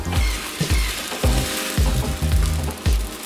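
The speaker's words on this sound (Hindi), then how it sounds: "तवा अच्छे से गर्म हो चुका है और हम इस पे ये सैंडविच रखेंगे" A bread sandwich on a hot tawa gives a steady bright sizzle, broken by a series of soft low thumps every half second or so.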